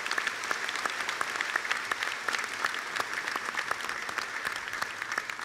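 A seated audience at a formal court ceremony gives steady, sustained applause for the members of the ceremony table, with dense, even clapping heard close up throughout and no talk over it.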